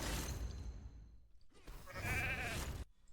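Sheep bleating in the RAID: Shadow Legends arena as Fenax cuts through them, a loud close bleat with game clatter and whooshes, then a second wavering bleat after a brief gap.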